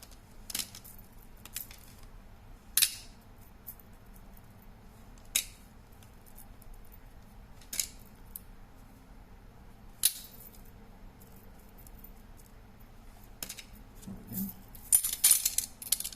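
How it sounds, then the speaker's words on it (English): Bolts, nails and thumbtacks sorted by hand, faint soft shuffling broken by a few sharp metallic clinks spaced seconds apart, with a jangling cluster at the end, quiet and close with no talking. "And I'll take at least all the bolts out. Bolts and nails."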